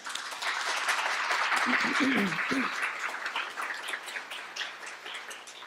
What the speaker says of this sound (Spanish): Brindemos un fuerte aplauso, por favor.